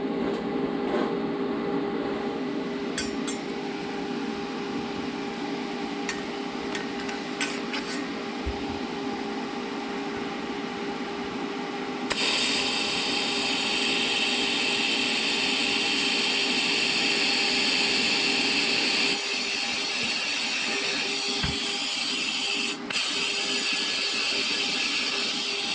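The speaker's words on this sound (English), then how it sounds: "So I got it tacked up, so I'm gonna try to weld it down." Welding a bung for a wideband O2 sensor onto exhaust pipe produces a steady harsh buzzing crackle that runs continuously at close range, shifting slightly in tone partway through.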